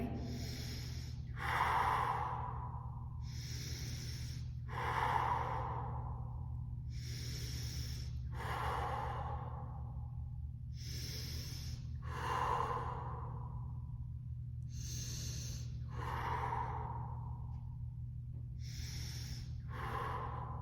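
Heavy rhythmic breathing while holding a high plank in a core workout, about a dozen close, forceful exhales and inhales spaced every second or two, over a low steady hum.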